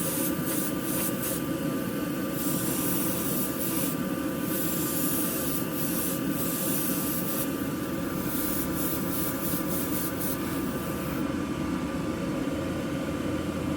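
An airbrush sprays paint onto a model tailgate in short hissing bursts, close and steady, with brief pauses between passes and a continuous compressor hum underneath.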